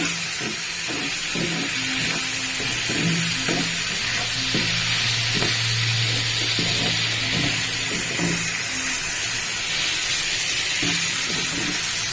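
Bitter gourd frying in hot oil in a pan, a steady loud sizzle and hiss with repeated scraping stirs of a spatula, close up and continuous.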